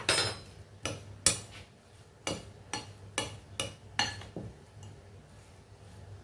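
A spoon stirs a green gram mixture with jaggery and salt in a pan, pressing down hard. Close, fairly quiet scraping strokes with sharp metallic clinks repeat at an uneven pace, about eight times, then fade.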